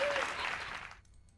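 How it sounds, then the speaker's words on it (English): A short burst of audience applause at a comedy podcast taping, steady and fairly close, dying out abruptly after about a second. "Give him a round of applause."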